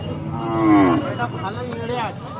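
A cow at a cattle market gives a loud, close, drawn-out moo that rises and falls, followed by a shorter second bellow.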